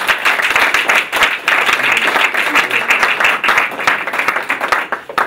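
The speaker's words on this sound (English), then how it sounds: "Let's give a big round of applause to Sandy Bates." A big round of applause from a university event audience at Stanford greets a guest speaker, dense steady clapping filling the whole stretch at close, loud level.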